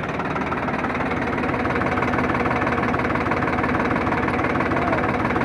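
Diesel engine of a Farmtrac 50 tractor hooked to a nine-tine cultivator, running steadily and loudly with a dense, even rumble and knocking throb throughout, no pauses or voices.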